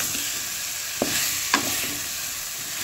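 Spices stir-fry in oil for a prawn and Malabar spinach dish, cooked until the oil separates. A steady, close sizzle is broken by two sharp spatula scrapes a half-second apart.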